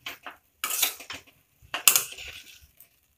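Jowar noodles tossed with sauce in a pan give a few sharp scraping and clinking bursts of a utensil against metal, with quiet gaps between them and no talking.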